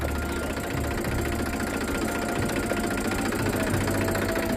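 A tractor engine driving a water pump on a farm, chugging loudly and close at a steady idle with a knocking vibration that carries on unbroken throughout.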